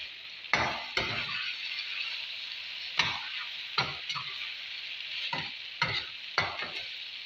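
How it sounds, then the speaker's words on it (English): Boiled yam egg sauce being stirred in a pan, with a steady sizzle of frying underneath and several sharp scraping strokes of the utensil at irregular intervals, close and moderately loud. "Then I'll stir it."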